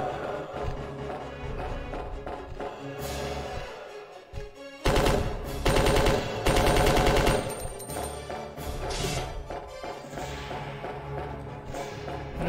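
Gunshots in the original PlayStation Resident Evil 2 ring out as a few loud, distinct bangs in the middle, set against continuous game music and background sound.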